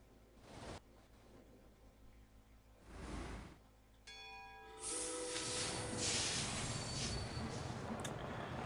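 Trains running in the video game Sid Meier's Railroads: steady mechanical rumble and steam-like hiss, with brief tonal whistle-like bursts partway through, then a dense continuous clatter and screech of wheels.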